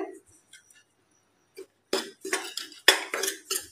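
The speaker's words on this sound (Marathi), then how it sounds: "चांगलं मिक्स करून घेऊया दोघांना" A spoon mixes ingredients for rava modak in a bowl, sounding as a few light clinks and then a burst of brisk scraping and knocking against the bowl, close and fairly quiet.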